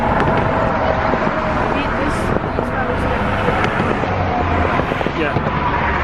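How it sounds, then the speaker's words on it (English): Distant New Year fireworks bursting over Dallas, seen from a tall bridge: a steady rumble of far-off booms and crackles runs throughout, with people talking excitedly over it and some wind noise. "loads of fireworks going over there as well."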